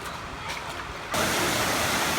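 A waterfall at the end of a gorge roars as a steady broadband rush, softer at first and then suddenly louder and fuller, like moving closer to the falling water.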